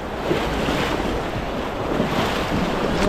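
Strong rushing water current in a flooding stream, a loud continuous roar close to the microphone with wind buffeting mixed in and no talk.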